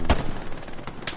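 Gunfire in the WWII shooter Hell Let Loose on PS5, a sharp close shot followed by a quick rattle of further rounds, loud and alone.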